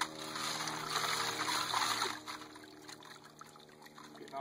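Creek water runs and splashes over a small sluice while leaves and clay are rinsed off by hand during a gold prospecting clean-up, a close, busy trickle that eases off partway through, with no talk.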